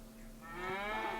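A Brown Swiss cow in Farming Simulator 25 gives a single, fairly faint drawn-out moo that swells toward its end, with no talking over it.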